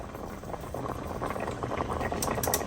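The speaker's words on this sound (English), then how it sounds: "we let it cook, simmer for at least 10 minutes before we start with the rest ingredients" Okra soup with salmon and crab simmering in a pot, a continuous dense bubbling burble close by, steady and even, with a few brief higher clinks near the end and no speech.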